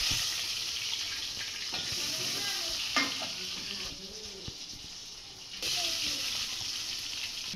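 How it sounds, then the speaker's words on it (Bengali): Eggs frying in hot oil in a cooking pot on a stove, heard as a loud, close sizzle with repeated stirring scrapes and knocks that briefly dips and then swells again. "তেল গরম হয়ে গেলে ডিমগুলো ভেজে নেবে"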